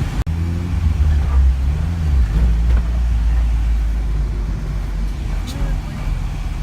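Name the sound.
old 1980s car with old transmission driving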